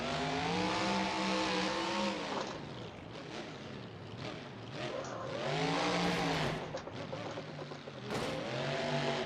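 Monster truck in BeamNG.drive, its engine revving hard in repeated long surges that climb and fall, loud and close, with a rough, lower-pitched stretch between bursts and no talking.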